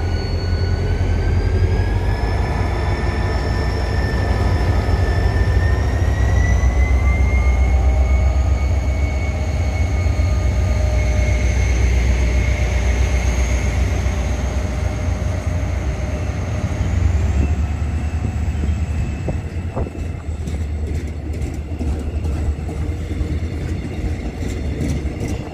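Old diesel locomotive 7350 hauling Mugunghwa passenger train 1944 rolls past loudly near a closed station, with a steady heavy rumble and engine drone, rising whine tones, and a clanking rattle of cars toward the end.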